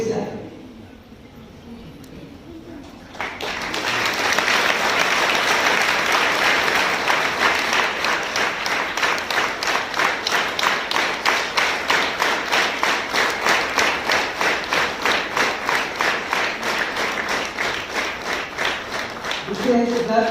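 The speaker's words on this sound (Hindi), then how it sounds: "आप जो इससे तालियां भी बजा सकते हैं" A crowd at a Buddhist Dhammachari ordination ceremony in Nanded breaks into loud sustained applause after a quiet opening, settling into a rhythmic, synchronized clapping pattern that continues to the end.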